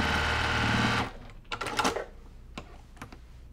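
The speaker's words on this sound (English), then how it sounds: "We're just gonna top stitch that down a couple of times on our sewing machine." A sewing machine top-stitching a quilted stocking runs in a steady, dense whir for about a second, then stops, followed by a few short bursts of stitching and scattered clicks.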